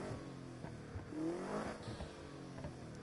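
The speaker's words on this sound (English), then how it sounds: "I had to hit the accelerator a little bit there to actually just hear that lovely little engine." A sports car engine in Need for Speed Heat revs up under acceleration, its pitch climbing and dipping in steady, fairly faint surges with no talk over it.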